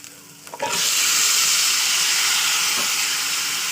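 Meat is dropped into hot oil in a pan while cooking a spiced meat-and-bottle-gourd dish, bursting into a loud, continuous sizzle that rises quickly and then hisses steadily.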